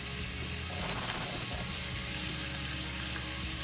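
Onions, celery and sweet red peppers sauté in a saucepan, giving a steady, close sizzle that holds evenly throughout with a few soft stirring shifts and no talking.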